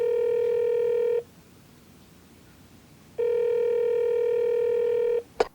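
A telephone placed in a noise-proof alcove gives two long, steady electronic tones separated by a pause, then a short click, heard close up with no talking.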